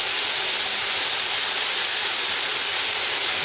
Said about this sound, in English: Here it's sizzling like mad now.